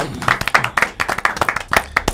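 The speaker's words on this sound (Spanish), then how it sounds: "Un aplauso, señores" A short burst of clapping, a small group's quick, uneven claps close by, lasting only a couple of seconds.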